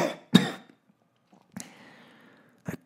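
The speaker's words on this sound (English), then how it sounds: "I cough up something wet and bloody." A person gives one harsh, wet cough, followed by rough throat-clearing and a final short cough, close and isolated against silence.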